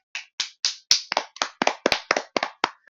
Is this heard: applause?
yes